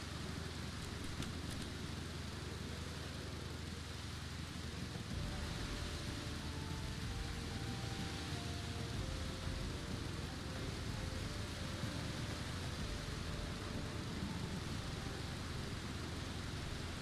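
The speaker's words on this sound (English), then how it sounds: "Tell you, for a desert, this place sure gets a lot of rain." Steady, even rain hisses across a desert setting in the Final Fantasy XVI crossover event of a video game, a constant wash of falling drops with faint tonal notes drifting underneath.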